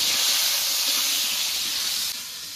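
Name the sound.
stirring and frying pointed gourd (potol) in oil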